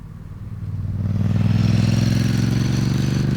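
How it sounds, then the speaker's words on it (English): A custom Ducati motorcycle with a rattling dry clutch rises from idle to a loud, throaty rev and holds there, with a dense mechanical clatter running under the rumbling engine, close by. "it's quite clearly a beautiful sounding, clutch rattling Ducati"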